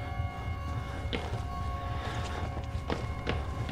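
Running footsteps in the horror video game Outlast, soft and fairly distant, a handful of irregular thuds standing out over a steady low rumble and hum of the game's ambience.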